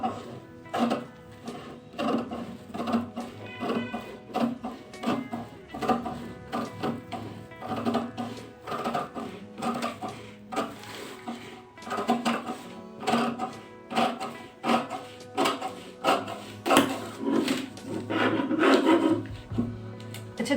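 Scissors cut through cloth for a gol daman shirt pattern at a tailoring class, giving a steady run of close, rasping snips and rustles that repeats for the whole stretch with no talk.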